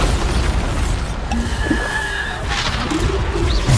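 The Bombarda explosion spell is cast in Hogwarts Legacy, giving a loud, dense rumbling boom over continuous noisy combat, with a brief brighter burst partway through.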